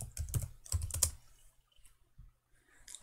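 Typing on a computer keyboard to enter a search into a search bar, with a quick burst of clustered key clicks followed by a few sparse, softer taps and pauses, close and fairly quiet with no talking.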